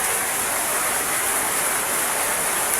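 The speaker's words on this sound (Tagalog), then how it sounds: "malakas yung ulan" Heavy rain drums on a roof in a steady, loud, unbroken hiss that fills the whole stretch with no pauses.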